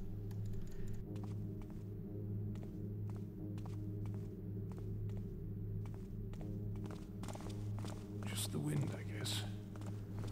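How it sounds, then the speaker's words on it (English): Soft, regular footstep taps in the stealth video game Thief, produced by wind, repeat at an even walking pace over a steady low hum, quiet and distant, with faint noisier rustles near the end. "The wind making footstep sounds."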